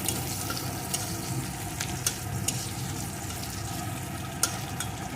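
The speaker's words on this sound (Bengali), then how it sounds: "পেঁয়াজ কুচিটা একটু ভেজে রেখে খুব যে লাল লাল করে ভাজবো না" Chopped onion frying in a pan for a spiced ivy gourd dish, giving a steady, close sizzle with occasional sharper crackles and pops throughout, no voices.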